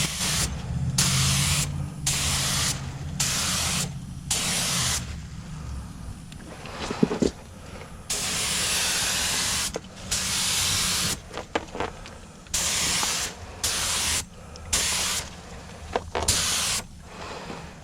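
An automotive spray gun lays clear coat on a car quarter panel in repeated loud hissing bursts of a few seconds each, separated by short pauses, close up with a low rumble underneath.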